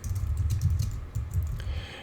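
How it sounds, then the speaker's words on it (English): Fingers typing on a computer keyboard in a writing session, a quick, uneven patter of close key taps with soft thumps, heard alone without speech. "when I start typing, you'll see"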